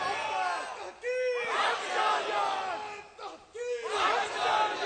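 A large crowd at a religious speech chants slogans in loud, roaring bursts, several swelling waves of massed voices rising and falling across the clip.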